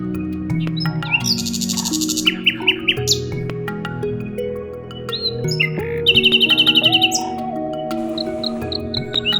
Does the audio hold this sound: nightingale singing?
yes